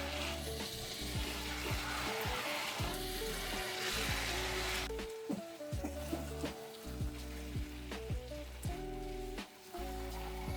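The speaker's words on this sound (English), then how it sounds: "I was frying my potato" Potatoes frying in a pan on the stove give a steady, close sizzle with crackling pops and occasional clinks and stirring knocks throughout.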